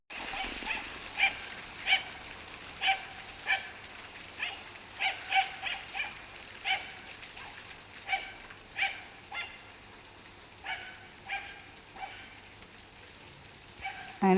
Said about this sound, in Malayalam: താഴെ പാടത്ത് പശുവും പട്ടിയും കൂടി തമ്മിലുള്ള ഫൈറ്റ്.